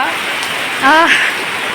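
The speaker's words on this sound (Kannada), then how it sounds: "ಮಳೆ ಬರ್ತಾ ಉಂಟು. 2026ರ ಮೊದಲ ಮಳೆ." The first rain of 2026 falls after a long dry spell, a constant close hiss of rain that continues while a voice briefly sounds over it.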